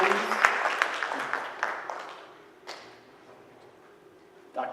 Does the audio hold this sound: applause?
yes